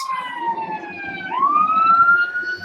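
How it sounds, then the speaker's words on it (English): An ambulance siren wails through a city street, its tone sliding down and then rising again as the vehicle passes, loud and fairly close. "And there goes the ambulance."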